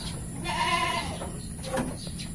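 A kacang goat gives a single wavering bleat at moderate distance, followed by fainter bleating a moment later, over a low steady background hum.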